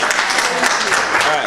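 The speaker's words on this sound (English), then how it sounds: "And give a hand clap for my staff member, Sandra Sanchez." Audience applause for a staff member at a community program event, a steady dense patter of clapping filling the short clip at moderate loudness, with voices mixed in.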